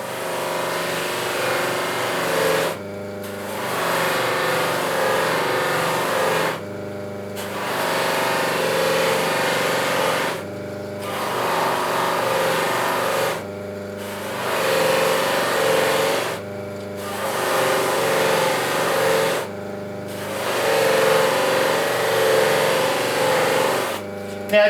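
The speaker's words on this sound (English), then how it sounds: "Buffer on, charge up the wheel." Buffer machine with a Tripoli-charged buffing wheel running in a steady mid-pitched motor hum, cutting out and spinning back up about six times in a repeating on-off rhythm, loud and close.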